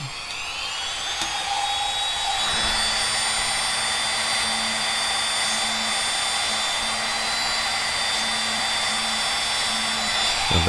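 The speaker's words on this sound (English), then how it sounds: "Not much to say during the drilling times." A small drill bores into parts of a Moebius 1/1000 USS Kelvin plastic model kit, giving a steady, high-pitched whine that runs almost unbroken for about ten seconds, close and alone, with a brief dip near the start.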